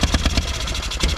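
An old Onan engine on a Miller welder, dead for ten years, sputtering on choke as it tries to catch, uneven rapid close chugging pulses with no talking.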